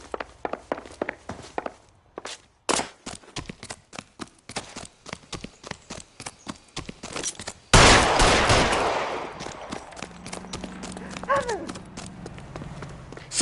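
Sharp gunshots crack in a rapid, irregular string in L.A. Noire, loud and close, followed by a long heavy blast that decays into rumbling debris and lingering noise.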